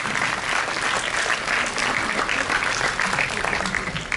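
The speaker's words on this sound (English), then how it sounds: "Could we have a huge round of applause?" An audience of students at a school interclass patriotic quiz competition gives sustained, enthusiastic applause, with dense clapping from a crowd holding steady across the whole stretch.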